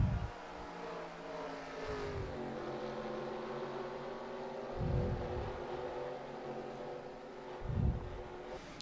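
Stock cars in NASCAR Racing 2003 at a Canadian road course: a steady, harmonic engine drone with shifting pitch, and several louder cars sweeping past close by in brief swells.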